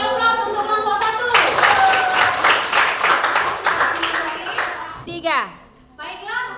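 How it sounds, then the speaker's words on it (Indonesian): Classroom applause for a student group after their presentation: a dense burst of many clapping hands lasting several seconds, with a teacher's and children's voices before and after it. "Kita beri aplaus untuk kelompok 1."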